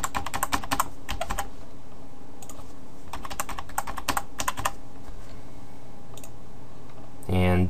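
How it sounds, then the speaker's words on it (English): Someone types a password on a computer keyboard in rapid, close bursts of key clicks separated by short pauses, ending with a brief louder thump. "Now you want to type in a password for your super user."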